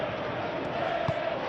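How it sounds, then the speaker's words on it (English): A virtual stadium crowd at a Chelsea vs AC Milan pre-season match in PES 2021 keeps up a steady, loud roar with a brief swell partway through, and a commentator's voice sounds faintly beneath it. "the crowd are reacting to that now"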